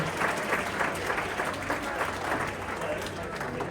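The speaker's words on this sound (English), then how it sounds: "Give yourselves a round of applause for being here for so goddamn long." A comedy show audience at a cancer charity event applauds in a dense, steady wash of clapping that holds evenly loud from start to finish, with some crowd noise mixed in.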